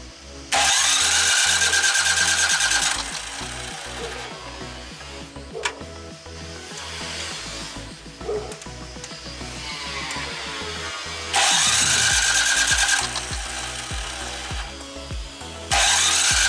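An engine cranks in long, loud bursts, then catches and runs with a rough, irregular idle, amid outdoor noise from sawing and barking dogs on a noisy winter day.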